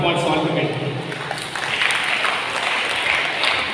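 Congregation applauding inside a church, a steady wash of clapping from many hands lasting throughout.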